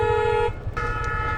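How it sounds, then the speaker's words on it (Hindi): A vehicle horn blares continuously in two long, loud, tonal honks separated by a brief break, over a low engine rumble on a street during a bike ride. "और अब ये कंटिन्यूस हॉर्न मार रहा है।"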